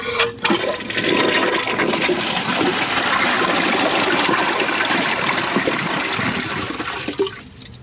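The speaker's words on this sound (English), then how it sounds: "Here's a flush like this." A 2007 Kohler Highline Ingenium toilet flushes with a loud, steady rush of water that holds for about seven seconds before cutting off abruptly, no voices.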